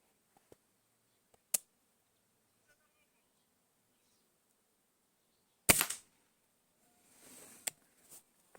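A rifle is zeroed at a target using Shershen bullets: three sharp, isolated cracks spaced well apart over otherwise quiet surroundings, each with a brief tail and no talking.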